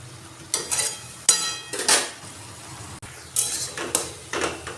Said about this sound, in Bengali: আমি এই চামচে চার চামচ চিনি দিয়ে দেব